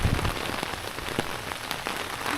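Rain patters steadily on a surface, a constant hiss with scattered sharper drops, close by and without voices.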